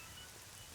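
Rain falling steadily as a soft, even hiss on surfaces, quiet and continuous through a brief moment with no voices.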